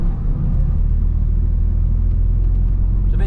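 Porsche race car at a Spa track day, a continuous heavy engine rumble holding steady and close for the whole stretch, loud and unbroken with no talk over it.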